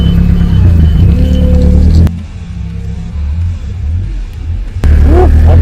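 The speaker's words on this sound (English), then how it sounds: "we got Tyler on the forklift" A forklift engine idles and runs at close range with a steady low rumble, briefly dropping in level midway before returning louder; no talking.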